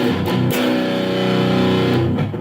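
Distorted electric guitar in drop tuning plays a heavy chord, ringing out steadily for about two seconds before cutting off, loud and close with no voices.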